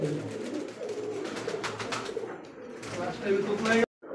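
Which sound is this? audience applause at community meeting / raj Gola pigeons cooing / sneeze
raj Gola pigeons cooing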